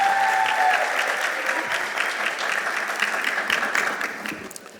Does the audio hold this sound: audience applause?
yes